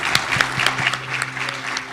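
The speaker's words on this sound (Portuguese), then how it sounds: "Gente, aplausos para eles, por favor." An audience at a rural entrepreneurship forum applauds the panelists, a dense wash of clapping with a few sharp individual claps standing out, while a voice lingers briefly underneath.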